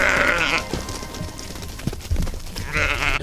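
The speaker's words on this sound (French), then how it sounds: "J'adore ces moutons qui passent à toute vitesse à côté de moi." Sheep bleat in bursts at the start and end while the flock hurries past a walker crossing the Netherlands on foot, with scattered hoof and rustling noises between the calls.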